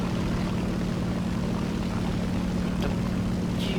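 Japanese propeller aircraft droning steadily in a flight combat video game, a continuous loud engine hum with a broad rushing roar throughout and no speech.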